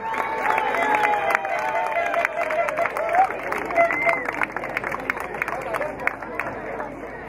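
A festival crowd at a tub-race palio in Rieti bursts into sustained applause and cheering for a father and son, steady clapping with crowd babble layered over it.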